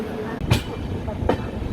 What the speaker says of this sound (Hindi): ये जो ट्रेन की कटाकट जो आवाज़